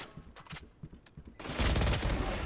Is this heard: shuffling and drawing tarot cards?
no